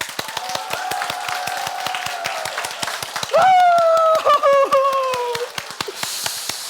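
Church congregation clapping in rhythm during a Korean Sunday worship service, sharp regular claps running throughout while a voice sings or calls out loudly in the middle.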